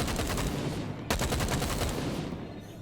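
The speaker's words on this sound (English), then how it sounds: "Now, I want to see one good shot going forward." Rapid rifle fire in the VR video game Stormland, with a dense, loud burst of repeated shots, a brief break, then more automatic fire fading out.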